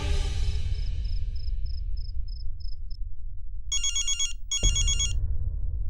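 A telephone rings in a domestic drama scene: an electronic trilling ring repeats in short bursts, clear and alone, with no talking over it.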